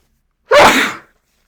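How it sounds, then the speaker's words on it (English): A single loud, close sneeze, a sharp burst lasting about half a second followed by silence. "why do I sneeze in every video now?"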